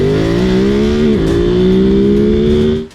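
Ducati Monster's 937cc 90-degree L-twin engine idles close and loud with a steady, throbbing harmonic drone, rising slightly in pitch around a second in, then cutting off abruptly near the end.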